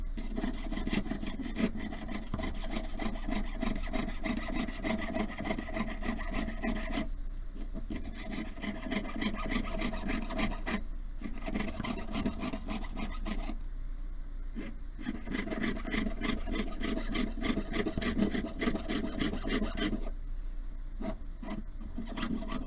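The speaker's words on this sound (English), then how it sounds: "so now I'm going to saw out this eye" A fine jeweler's saw rasps back and forth through sterling silver in rapid, steady strokes, with a few brief pauses between runs of cutting.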